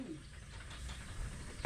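A pigeon or dove coos faintly in a backyard, soft low calls over a steady background hum with no talk.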